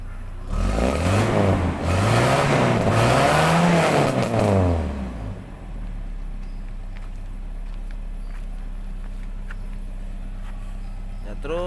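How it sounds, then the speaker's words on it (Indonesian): A used car's engine is revved hard while the car is inspected in the morning: a few loud rising and falling surges, then it settles into a steady, rumbling idle. "Coba saya gas ini ya."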